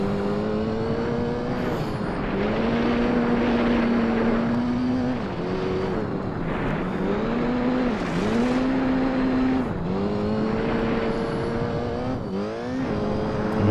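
Race car engine in Gran Turismo 4 on a purple section track, a steady close buzzing drone that rises and dips with shifts and revs, the car weaving through corners near a wall, heard alone without talk.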